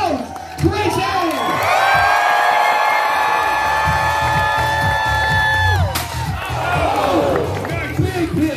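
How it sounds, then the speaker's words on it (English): A crowd at a full-contact jousting match cheers loudly and whoops in a sustained roar, with a long tonal call ringing over the noise before the cheering breaks into scattered shouts. "And the crowd goes crazy"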